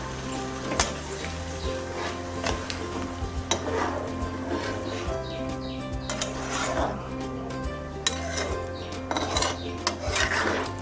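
Masala spices sauté in a pan for a Bengali chicken and banana flower curry, with a steady sizzle and repeated scraping, stirring strokes of a spatula against the pan, heard close up with no talking.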